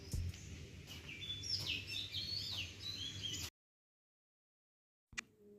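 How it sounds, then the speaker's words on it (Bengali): On a morning in the hills of Munnar, Kerala, several birds chirp and whistle in quick, overlapping calls. The calls are faint and sit over a soft ambient hush, then give way to silence before a brief burst of sound returns. "কি সুন্দর পাখির কলরবে আজ আমার ঘুম ভাঙলো"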